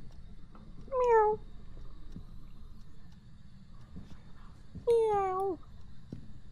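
A voice imitates a cat, giving two drawn-out meows a few seconds apart over a quiet background hum, during Phasmophobia gameplay.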